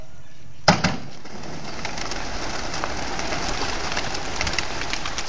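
Racing pigeons released at an SLFU North endurance race in Vigan: a sudden burst of wing flapping and clatter from the flock, then a dense, continuous fluttering and rustling that carries on loudly to the end.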